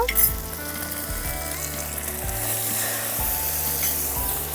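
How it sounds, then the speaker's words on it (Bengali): Spice paste of cumin powder, turmeric, salt and a little water fries in a pan for a Bengali potato, eggplant and puti fish dish, a loud continuous sizzle up close, with stirring and no voices. "মশলাটাকে ভালো করে কষিয়ে নেব।"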